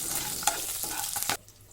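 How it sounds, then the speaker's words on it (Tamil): Two slit green chillies sizzle in hot oil with fennel seeds in a pan while a spoon stirs and scrapes, close and crackling, before the sizzle drops away. "இப்போது நீலவாக்கில் நறுக்கி வச்சுருக்க 2 பச்சை மிளகாய் ஆட் பண்ணிக்கோங்க."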